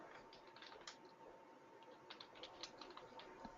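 Quiet computer keyboard typing as an IP address is entered into a router setup screen, a loose run of soft, close key clicks with brief pauses, no speech.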